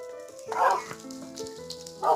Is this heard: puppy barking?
yes